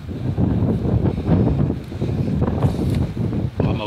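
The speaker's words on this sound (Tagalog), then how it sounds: "Ang hangin. Grabe. Sobrang hangin." Strong, gusty wind at the Dingli Cliffs, Malta, the island's highest point, buffets the microphone with a continuous low roar and rumbling, rising and falling in bursts without pause.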